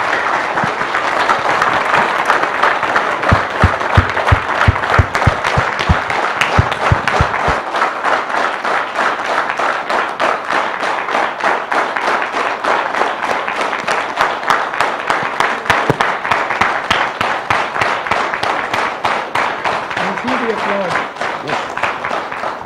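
An audience gives Dr. Bruce a sustained burst of fast, loud clapping, a dense, even wash of applause that runs steadily from start to finish, with a few separate louder claps standing out near the beginning.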